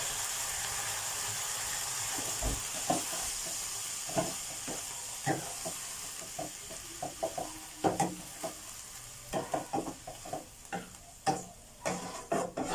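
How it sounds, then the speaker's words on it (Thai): Minced pork and pineapple stir-fry in a hot pan with holy basil going in, a steady sizzling hiss under a run of irregular spatula scrapes and taps that grow busier toward the end. "สุดท้ายผมจะใส่ใบโหราพาลงไป"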